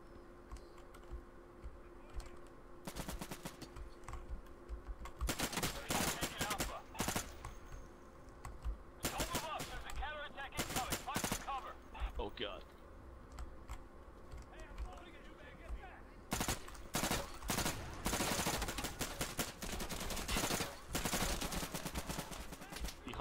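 In the game Insurgency, bursts of heavy gunfire from a big gun crack in clusters over about twenty seconds, mixed with rapid keyboard clatter and a player talking throughout.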